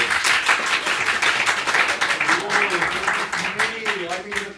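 Audience applause at a Wild West murder mystery show, a dense steady clapping from a crowd, with a voice rising over it partway through.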